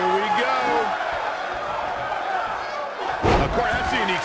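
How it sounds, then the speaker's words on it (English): A wrestler slams onto the mat from a suplex during a hardcore title match, one heavy thud late in the moment, heard over a crowd and excited commentary voices. "Of course, that's a unique suplex."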